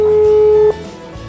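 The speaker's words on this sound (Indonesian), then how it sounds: "Saya langsung aja telepon Pak Arifin ya." A single steady phone tone sounds loud and clear for under a second as a call is placed, then cuts off into quiet room hiss.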